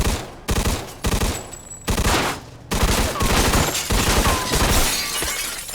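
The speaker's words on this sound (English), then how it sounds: "How much of this shop am I shooting up?" Rapid bursts of gunfire tear through a shop in the Mafia 2 Definitive Edition video game, loud and continuous with glass shattering among the shots and no pauses for speech.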